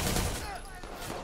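Gunfire from the Watch Dogs 2 video game crackles in quick, loud bursts of shots, dense and close, with a voice talking over it.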